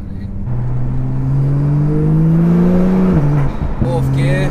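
A tuned 680bhp Porsche 991.2 Turbo engine revs hard and climbs in pitch through the gears, with a brief shift break before surging again in fourth gear, loud and close.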